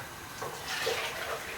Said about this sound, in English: Now I'm going to pour the stock back into your pan